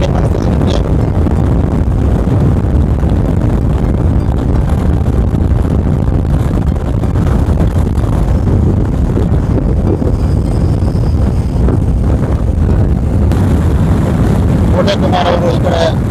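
Car on a long drive from Devirammana temple toward Chikkamagaluru, with a constant loud road rumble and heavy wind noise on the microphone; people talk over it.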